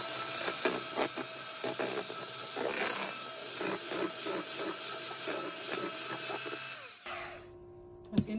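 Eggs whisked in a small bowl for a potato fritter coating, a fast steady rattling clatter that runs continuously for several seconds, then stops abruptly, leaving a quieter room tone with a faint hum.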